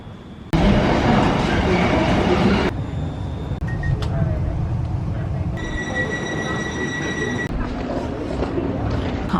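On board a train bound for Milton Keynes, a steady rumble of wheels and carriage noise fills the cabin, with shifts in level and brief tonal hums as the ride continues.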